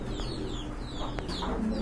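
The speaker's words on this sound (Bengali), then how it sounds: "আরেক জোড়া লাহোরি কবুতর" Lahori pigeons, a large breed, cooing and fluttering softly up close over a low background hum, with brief higher calls from other birds.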